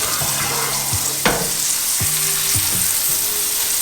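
A breaded beef steak, milanesa, frying in hot oil, giving a loud, steady sizzle with a few soft clinks and low thuds as it is moved in the pan.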